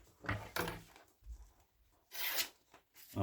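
A freshly sharpened Spyderco Pacific Salt knife slices through foam book paper in several quick, crisp tearing strokes, close and clear against a quiet room.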